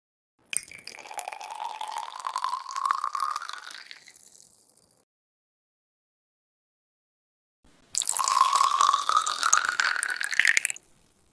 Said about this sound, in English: I will search pouring water in a glass sound effect.